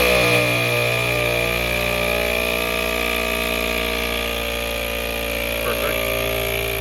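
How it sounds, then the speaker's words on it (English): An air compressor drones steadily inside a vehicle, a constant mechanical hum with strong tonal whine layered over a low rumble, unchanging for the whole stretch. "You mind hitting that compressor real quick?"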